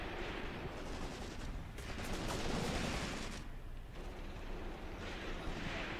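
Soldiers hidden in a barn fire on the enemy in Graviteam Tactics, a faint, distant crackle of rifle and machine-gun fire mixed with rumbling battle noise, continuous and low in level.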